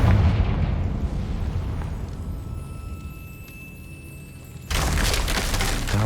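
A Confringo fire-spell blast in Hogwarts Legacy: a deep rumbling explosion that slowly fades over several seconds, then a second loud burst of roaring noise cuts in near the end, with no voices.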